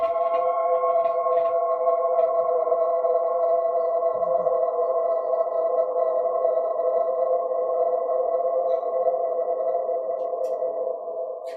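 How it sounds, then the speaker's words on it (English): A steady, sustained wash of tonal sound hangs without break, a long smeared reverb tail that barely decays, alone with no voices. "Absolutely amazing reverb."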